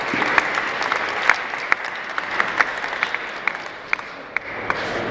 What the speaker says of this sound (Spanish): igual la recibimos con un aplauso.